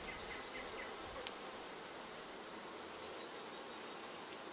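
Honey bees in a split hive with queen cups drone in a low, steady buzz, fairly faint and even throughout, with one brief tap partway through and no talking.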